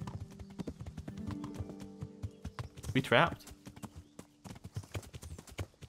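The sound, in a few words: horse hooves clip-clopping, video game Kingdom Come: Deliverance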